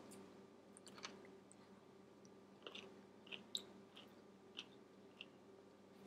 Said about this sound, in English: now I'm gonna try out this fermented pickle.